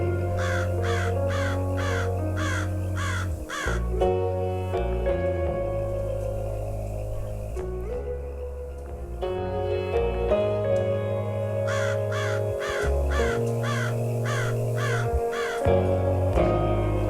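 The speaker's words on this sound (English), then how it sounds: "Crow." A crow caws loudly and repeatedly in clusters of harsh calls, close up, with brief pauses between bursts.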